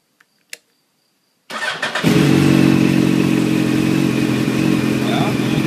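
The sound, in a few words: motorcycle engine revving as throttle is raised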